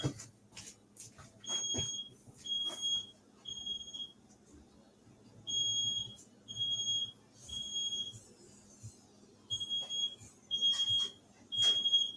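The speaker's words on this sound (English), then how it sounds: "Smoke detector right outside." Smoke detector alarm sounding just outside, repeated shrill electronic beeps in regular bursts with short gaps, loud and clear with no talk over them.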